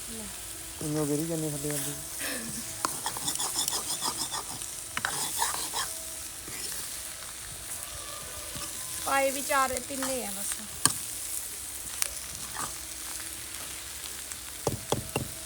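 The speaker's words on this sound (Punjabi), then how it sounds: "ਪਿਆਜ਼ ਵਿੱਚ ਫਰਾਈ ਕਰਤੇ ਪਾਤੇ" Onions and vegetables frying in a pan during village-style desi home cooking, giving a steady sizzle with occasional stirring scrapes under intermittent talk.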